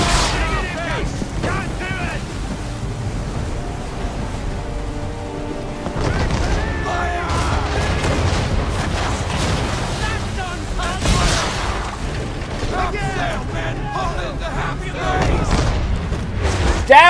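Ship cannons fire during a naval battle in Assassin's Creed 3, heavy booms rolling out repeatedly over a continuous battle din, with voices shouting throughout.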